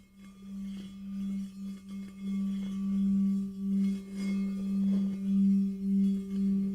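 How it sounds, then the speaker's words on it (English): A steady singing hum from a handbell whose rim is rubbed with a dowel, one sustained tone swelling and fading in a slow rhythmic pulse, clear and close with faint overtones. "rub it around the rim of the bell, and eventually you'll hear it humming"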